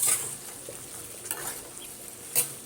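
Spices with a pinch of hing being stirred into hot oil in a frying pan, a low steady sizzle broken by a few sharp scraping strokes of a spatula, close and alone.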